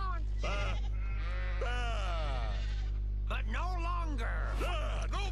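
Sheep in the Skylanders video game bleating in a run of wavering, drawn-out cries, several overlapping and close, over a steady low game hum with no talking.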